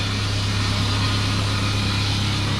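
Geo Tracker engine running after a lift kit install, a low steady idle-like hum, close and continuous, with no voices.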